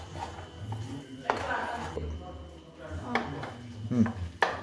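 Thick amla powder paste mixed with water and a little ghee is stirred in a pan, giving soft scraping and rubbing sounds with a few sharper utensil knocks against the pan, under a speaking voice.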